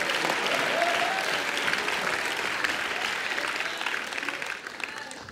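A church congregation clapping in praise, a full, sustained burst of applause from a crowd that tapers off gradually toward the end.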